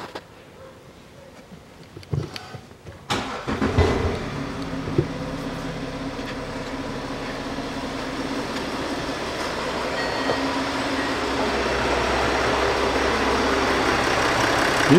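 A Range Rover Sport 3.0 diesel engine cranks and catches after a brief silence, then settles into a steady idle rumble that grows slightly louder and continues alone to the end.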